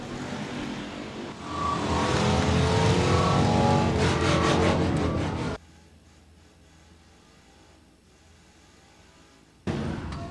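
Factory 50 race cars thunder down the back straightaway at a dirt speedway, a loud sustained roar for several seconds that cuts abruptly to a quiet lull before the engines burst back in.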